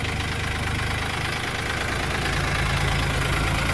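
A Dongfeng DF 244G2B tractor engine idling, a steady, even low-pitched rumble heard close up with no voices.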